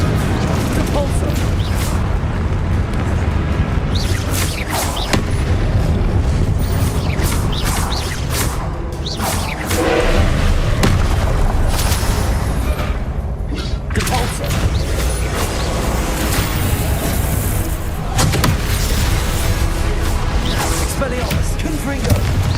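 Harry Potter video game spells (ice, disarming, blasting and repelling charms) going off in quick succession, a dense run of booms, whooshes and crashing impacts, with a voice talking over parts of it.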